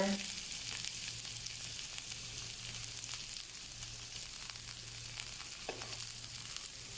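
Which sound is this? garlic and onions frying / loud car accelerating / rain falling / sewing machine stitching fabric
garlic and onions frying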